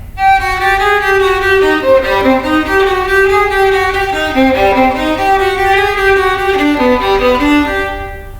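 A solo violin plays a sustained, in-tune melody, but the notes begin softly and blurred rather than with crisp attacks, giving a slightly fuzzy, smeared tone.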